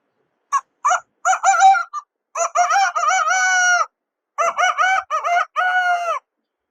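A person imitates a rooster crowing: a few short clucking calls, then drawn-out crows, loud and close, with gaps between.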